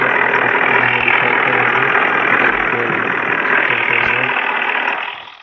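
Eicher tractor engine in an open-world driving video game, a steady loud mid-pitched engine drone that holds evenly and then fades out at the end.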